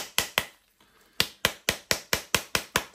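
A halved pomegranate held cut-side down and struck on its back with a heavy, solid object to knock the seeds out: a steady series of sharp, close thumping taps, two then a pause, then about ten evenly paced blows.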